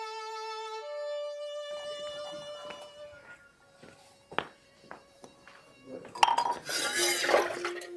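Dishes, pots and steel utensils clink and clatter close by during washing at a home sink, with sparse knocks building to a dense, louder rattle of metal and running water toward the end.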